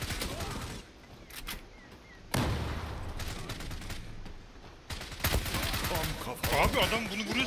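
Bursts of automatic gunfire in the online shooter Zula on a ship map, loud and dense, with quieter gaps between volleys and game sound effects throughout.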